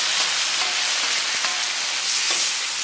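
Tomatoes dropped into hot oil already sizzling with scallion and garlic in a home kitchen wok, giving a steady close crackling sizzle with small pops and faint utensil clinks throughout, no talking.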